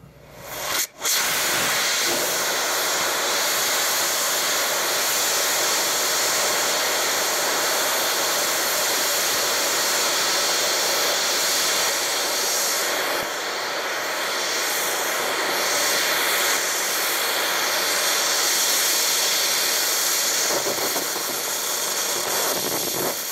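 A long-burn solid rocket motor on a static test fire roars as a loud, steady, broadband hissing rush that runs unbroken for over twenty seconds after a sharp onset, with no voices.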